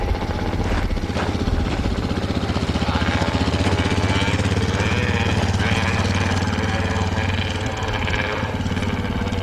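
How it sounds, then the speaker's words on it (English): Another motorcycle rider passes near the Courtright Reservoir gorge, a rough, pulsing engine chugging steadily and loud throughout, close by, with a low rumble that holds for several seconds. "Another motorcycle rider."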